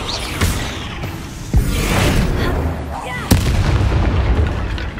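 Hogwarts Legacy Confringo fire spells blast in sharp, loud booms over continuous crackling combat noise, three distinct hits landing within a few seconds.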